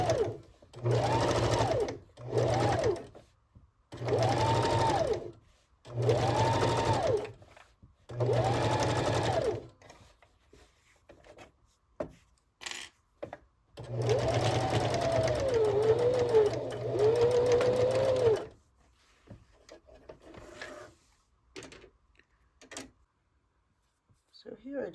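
A sewing machine top stitches a seam in repeated short runs, each a few seconds of close, steady humming separated by quiet pauses, followed by a longer run and some light handling clicks.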